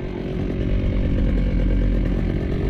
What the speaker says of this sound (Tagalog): Tayo mag-grass cutter muna tayo.